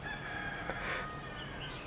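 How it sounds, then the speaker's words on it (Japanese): A rooster crows faintly in the distance, heard from the quiet outdoor terrace of a service office near the Japanese embassy in the Kim Ma and Linh Lang area of Vietnam. A single brief call rises over a steady low background hum. "鶏の声聞こえたし"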